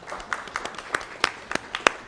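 Sparse, uneven applause from a small audience at a medical-week panel event, individual claps popping out irregularly and close by over a faint background.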